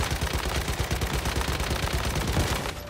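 Rapid automatic gunfire from a gun in the video game Once Human, a loud, steady stream of shots rattling continuously before cutting off near the end.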